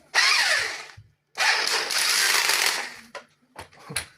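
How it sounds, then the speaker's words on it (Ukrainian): A rotary hammer drill with a chuck attachment whirs in two loud bursts of about a second each, with a short pause between them, then brief clicks and taps as it stops. "Вставляєте патрон, включаєте перфоратор."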